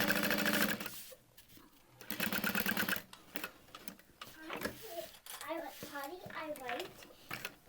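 A sewing machine stitches the side and bottom seams of a small Regina Phalange handbag in several bursts of fast, rattling running, with pauses, while a person talks in between.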